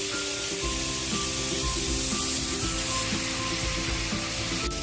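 Chicken afritada with tomatoes sizzles and fries steadily in a pan, a continuous close crackling hiss with faint low stirring knocks and a sharp clink near the end, no voices.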